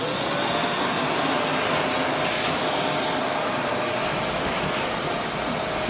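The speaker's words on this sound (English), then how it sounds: "He's gonna put your hair into a ponytail with a vacuum." A vacuum cleaner runs steadily and fairly loud, being used to pull a child's hair into a ponytail, a constant whooshing motor drone with a brief surge of airflow partway through, no talk over it.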